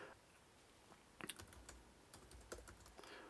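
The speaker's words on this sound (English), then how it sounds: "or I can just keep on typing" Quiet, close typing on a computer keyboard, a few soft irregular key clicks and taps in a hushed room.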